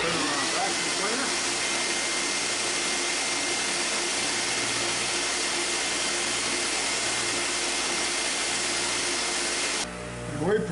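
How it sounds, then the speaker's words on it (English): A vacuum cleaner hooked to a sanding cabinet for grinding dust drones loud and steady for about ten seconds, then cuts off abruptly near the end. "Put it on a vacuum cleaner."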